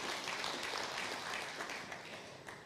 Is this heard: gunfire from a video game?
no